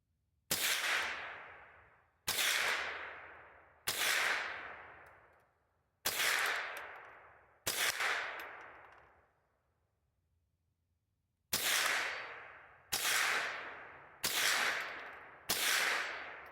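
Nine sharp shots from a Remington Viper 522 semi-automatic rifle fired at targets, loud and close, spaced irregularly with a longer pause midway, each crack trailing into a brief ringing decay.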